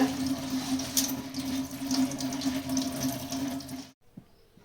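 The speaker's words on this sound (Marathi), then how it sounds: "पोहे धुवून घ्यायचे स्वच्छ।" Flattened rice (poha) rinsed under running water in a sink, a steady close splashing stream that cuts off abruptly near the end, followed by a brief faint trickle.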